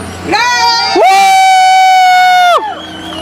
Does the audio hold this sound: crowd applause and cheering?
yes